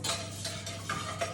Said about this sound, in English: give that a lovely stir